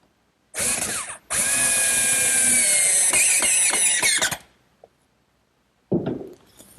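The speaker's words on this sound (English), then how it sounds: "This little guide allows me to make perfect blind screw pockets every time." A power drill bores blind screw pockets through a pocket-hole guide on bookcase stock: a short whine, a brief pause, then a long steady high-pitched run that ends in a few stuttering pulses, with one more brief start near the end.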